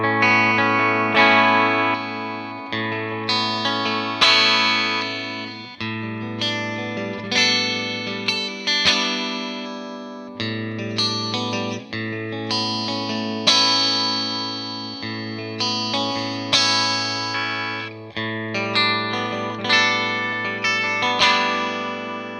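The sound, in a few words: Ibanez RG421HPFM electric guitar, coil split tones, effects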